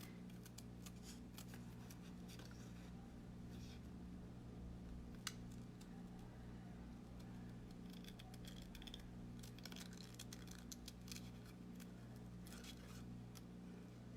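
Quiet, steady snipping of scissors cutting around a stamped paper image at a craft table, soft close clicks repeating in runs over a constant low hum.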